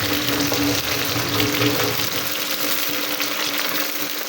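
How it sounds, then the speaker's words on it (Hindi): Sliced okra and onion fry in a hot pan with a continuous, loud hissing sizzle that stays steady throughout the whole stretch, with no talk over it. "ये सारी हमने डाल दी हैं, अब ये फ्राई श्राई होती रही।"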